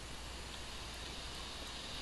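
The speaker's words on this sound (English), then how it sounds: "And there's the rain" Steady, faint video game rain hisses evenly throughout, a soft wash of noise without distinct drops.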